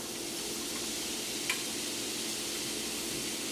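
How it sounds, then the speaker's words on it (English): Diced red onion, half a cup, sizzling in hot oil in a pan for a chickpea coconut curry: a steady, even broadband hiss from start to finish, with one brief crackle near the middle and no talking. "Once the oil's nice and hot, I'm going to add half a cup of diced onion."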